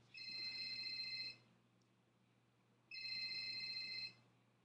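A telephone rings in two loud electronic bursts, each about a second long with a short pause between them, over a steady low hum and faint background.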